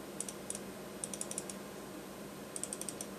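Typing on a computer keyboard comes in short quick bursts of crisp clicking, a few keys at a time with brief pauses between, close and clear against a quiet background.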